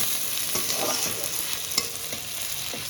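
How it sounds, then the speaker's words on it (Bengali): Chopped tomatoes and green chili stirred in a hot pan with salt, a close sizzle under soft scraping strokes from a spoon, a brief clack near the middle. "দিয়ে হালকা একটু নাড়াচাড়া করে"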